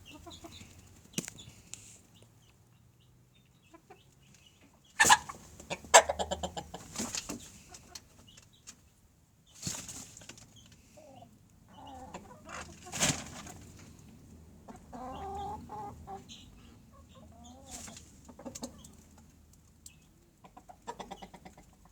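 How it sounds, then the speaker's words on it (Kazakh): Hens cluck intermittently, with scattered short calls, a brief flutter of wings, and quiet stretches between them. "Жұмыртқа басады тауықтар"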